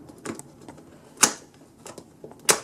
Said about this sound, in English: cut through this sellotape here. There we go. This should be able to just peel off.